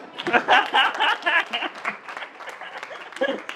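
Audience applause at a conference on public speaking, a broad wash of clapping with a few chuckles, loudest early and then tapering off while still continuing.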